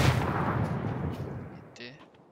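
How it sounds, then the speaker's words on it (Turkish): A grenade goes off in the PUBG battle royale game, a heavy booming blast that rolls and fades over a couple of seconds, with a faint clatter near the end. "Saçma bir yere bomba atıyor."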